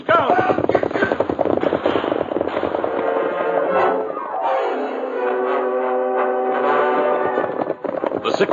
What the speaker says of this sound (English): The 6 men rode hard away from town and maintained the fast pace for several miles.